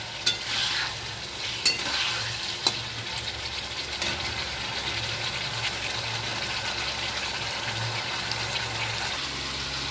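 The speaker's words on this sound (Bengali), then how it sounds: "এই যে আলু দিয়ে মশলা দিয়ে এখন কষাচ্ছি" Potatoes cooked down with spices in a pan, a steady close sizzle with a few sharp scrapes of the stirring spoon early on and a low hum beneath.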